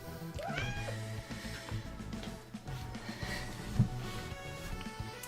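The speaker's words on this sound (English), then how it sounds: "hearing Nina meow for 4 hours on Monday that when Maisie showed up outside and meowed, you didn't think," A cat meows outdoors, several drawn-out calls that rise and fall over a low background hum, one of them sounding louder near the end.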